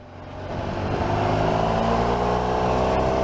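A Honda Crosstourer motorcycle fitted with a fancy aftermarket exhaust drones steadily while riding, its engine note swelling from moderate to a loud, sustained roar with wind rush.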